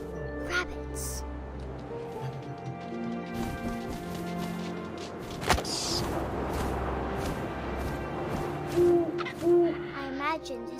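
An owl hoots in the What Remains of Edith Finch video game over steady wind and ambient game score, with the hoots sounding close and moderately loud against a droning background.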